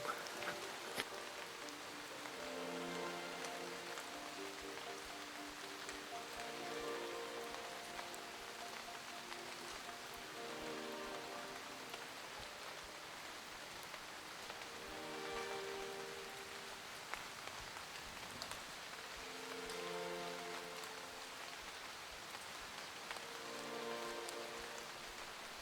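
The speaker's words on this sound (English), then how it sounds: "It's raining heavily now" Heavy rain falling steadily in lochside woodland in Scotland, a dense continuous patter on leaves and ground, close and even throughout with no voices.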